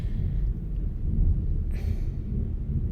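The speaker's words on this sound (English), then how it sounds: "There's thunder." Low thunder rumbles on and on in the distance, a soft, steady roll with no voices over it.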